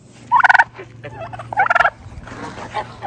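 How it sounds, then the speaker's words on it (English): A turkey hen gobbles loudly nearby in two rapid, rattling bursts, with softer clucks and a low steady hum between them and no talking. "It was the hen."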